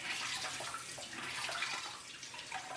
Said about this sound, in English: all over the blender sponge, and I just kind of squeeze it out